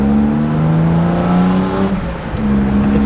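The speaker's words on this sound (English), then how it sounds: "I hear a little bit of an intake difference." BMW engine with a newly installed intake pulling hard from inside the car, a loud steady drone that climbs in pitch, dips briefly as if shifting, then rises again, with no talk over it.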